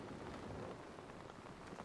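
Rain in the video game Dying Light, a steady dense patter of drops on surfaces, constant and soft, with no other sound over it.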